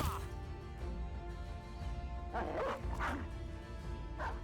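Dog barking and yipping in the tactical game Battle Brothers, several sharp mid-range barks near 2.5 and 3 seconds over a steady game ambience bed.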